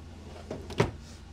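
A solid wood cabinet drawer inside a Gulf Stream BT Cruiser 5245 RV slides and bumps shut once, a short muffled knock with a softer scrape just before it, close by in a quiet interior.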